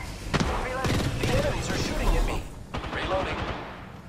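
Video game gunfire rattles in quick bursts and overlapping shots, some near and some farther off, against a loud battle background. Voices talk over the shooting.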